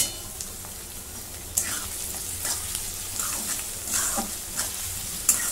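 Onion with salt and cumin sautés in a pan, a close continuous sizzle with repeated spoon stirs and light scraping clinks, no voices.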